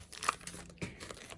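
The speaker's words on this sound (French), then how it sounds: "on va ouvrir la pochette. Je fais du bruit, pardon, et je bouge." A plastic pouch is torn open, giving a faint, brief crinkling and tearing rustle with a couple of soft crackles, close by.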